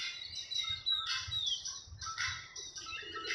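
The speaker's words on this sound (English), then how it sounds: "It's the blackbirds too." Blackbirds calling at sunrise in downtown Las Vegas, a dense run of overlapping high chirps, whistles and squawks that carries on throughout over a low city rumble.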